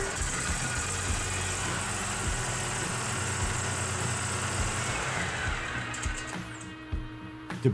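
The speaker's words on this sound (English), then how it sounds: "Place the steering levers in the neutral lock position and start the engine." A Bobcat zero-turn mower's engine runs at a steady idle, a continuous close mechanical drone with even hum that holds unchanged until a brief clunk at the very end.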